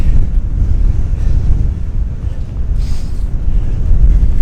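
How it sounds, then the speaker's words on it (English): Strong wind buffets the microphone in a steady low roar on an outdoor track at UC Davis, gusting throughout with no voices. "It's really windy right now."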